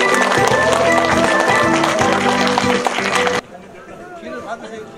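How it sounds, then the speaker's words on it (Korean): Audience at a Lions Club president inauguration ceremony in Daecheon clapping: loud, dense applause with cheering voices, stopping abruptly before quieter room chatter. "자, 큰 박수 부탁드리겠습니다."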